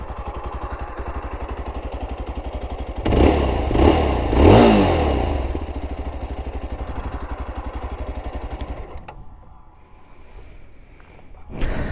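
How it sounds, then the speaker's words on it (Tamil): A 2025 Yezdi Adventure motorcycle idles with a steady, close thumping engine, then gets two sharp throttle revs that swell and drop before it settles back to a rough idle; no one speaks. "ஸோ என்ஜின் சவுண்டு எப்படி இருக்குன்னு கேட்டு பார்ப்போம்."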